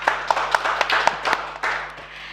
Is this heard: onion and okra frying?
no